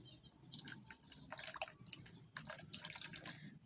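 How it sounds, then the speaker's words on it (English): Water is poured over a frozen aquarium to thaw the ice, giving faint irregular splashes and trickling drips close by, with no talking. "Pouring water."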